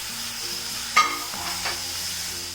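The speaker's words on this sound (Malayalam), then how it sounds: "ഈ ടൊമാറ്റോയും കൂടി ഇട്ടിട്ട് ഇളക്കിയെടുക്കാം." Chopped tomato stirred into a hot pan, with a soft frying sizzle, a single sharp clack of the spoon midway and a faint steady background hum.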